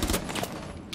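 Rapid bursts of gunfire trade back and forth in a round of Rainbow Six Siege ranked play, dense and loud for a second, with several overlapping shots.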